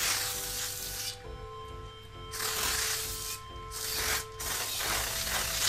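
Cleaner sprayed from a can onto the riser board of an Apricot MS540 computer. Four loud, close hissing bursts with short pauses between them.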